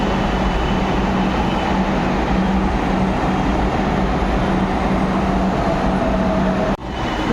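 A Kolkata metro train in motion, heard from inside a nearly empty carriage, gives a loud, continuous rumble and rattle with a faint steady hum, then a brief dip in level near the end.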